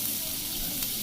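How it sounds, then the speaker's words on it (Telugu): Finely sliced onions fry in a pan with a constant close hiss and sizzle, with no clear stirring or other sounds. "కాస్త దాన్ని ఫ్రై చేసి ఉల్లిపాయలు వేసి ఫ్రై చేయాలి ఫస్ట్."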